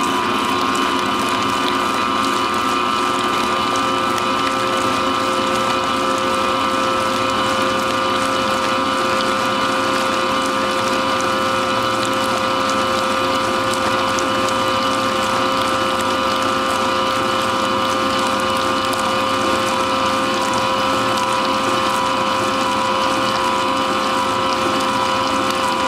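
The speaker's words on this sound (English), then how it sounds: "The low RPM, high torque cutting action combined with the close knife tolerance has given us the ability to process this very difficult application." A low-RPM, high-torque cutter with close knife tolerances and 15 cutters processing thermoplastic rubber, producing a loud, continuous mechanical drone with steady humming tones and a rhythmic grinding texture.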